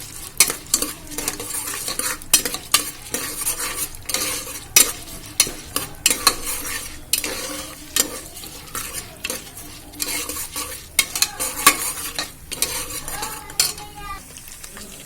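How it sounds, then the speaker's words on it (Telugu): Curry leaves, garlic cloves and toor dal fry in a tempering for fenugreek dal. A utensil clinks and scrapes against the pan in quick irregular strokes over a steady close sizzle, with no talking. "ఇప్పుడు కందిపప్పు ఇవి పోపు మంచిగా వేగిపోయినాయి."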